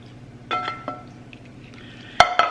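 Metal utensil clinking against a glass baking dish while warm macaroni is combined with goulash, a few soft taps followed by two sharper, louder clinks near the end.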